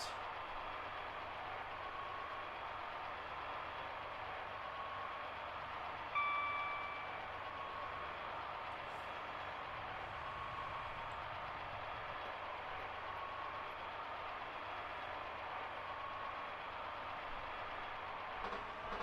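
A steady, low mechanical rumble of a 4-car train on the Riviera Line in a video game, running continuously, even and unbroken, with a faint brief tone partway through.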